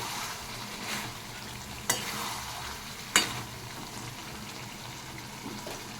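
Spice masala frying in a pan with a continuous close sizzle, stirred by a spoon that scrapes audibly twice.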